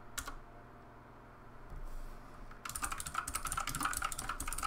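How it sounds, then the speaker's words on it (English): Keystrokes on a computer keyboard while typing a character name into a text-based online game: a single tap, a pause, then a quick run of close, quiet clicks with no talk. "I'm going to type my character name."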